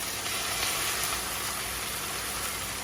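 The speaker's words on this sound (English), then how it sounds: "you just want to let it cook till all the pieces are nicely browned and no longer pink" Beef, broccoli and mushrooms stir-fry in a pan, giving a steady, even sizzle that holds at moderate loudness throughout with no talking.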